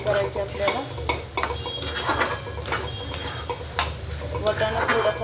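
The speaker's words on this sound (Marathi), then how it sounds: "आता पनीर टाकून घेऊया. एकजीव करूया." Paneer is stirred in a frying pan of onion-tomato gravy, with a steady sizzle under repeated scraping and clinking of a spoon against the pan.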